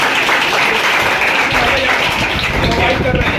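An audience applauds at a coaching institute in Patna, Bihar. The clapping is dense and continuous, loud and close, with no break for the full few seconds.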